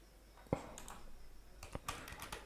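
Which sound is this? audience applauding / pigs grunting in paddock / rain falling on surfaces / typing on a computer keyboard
typing on a computer keyboard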